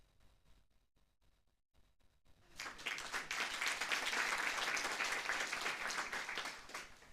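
A church congregation at a Sunday service welcomes the Nueva Alegría choir with applause: after a quiet start, many hands clap together in a dense, sustained burst that holds loud for several seconds.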